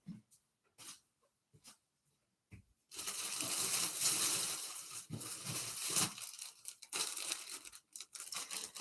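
A plastic bag holding a concert merch bucket hat is torn open and handled, loud close crinkling and rustling that starts after a few quiet seconds and continues in bursts.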